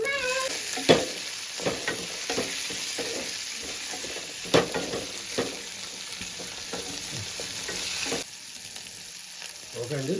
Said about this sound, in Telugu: ఓకే అండి బాగా వేగింది ఇప్పుడు టమాటా వేసుకుందామండి